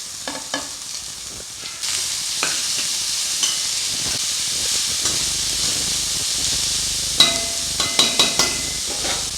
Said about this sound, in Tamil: இப்போ கேரட் பீன்ஸ் வந்து கொஞ்சம் வதங்கியிருக்கு இப்போ முட்டைக்கோஸ் சேர்த்துடலாம்